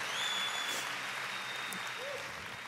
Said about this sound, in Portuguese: Dá uma salva de palmas para essa minha banda linda.